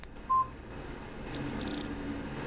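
Tetris running on a Samsung A167 cell phone gives one short, clear electronic beep near the start, then a few faint, high, brief tones over a low background hum, with no talking.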